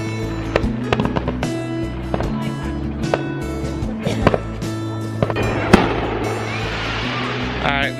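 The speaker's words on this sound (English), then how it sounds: "You can hear some fireworks in the background" Fourth of July fireworks go off at a distance in scattered pops and sharp bangs, ending in a crackling burst, while people talk nearby.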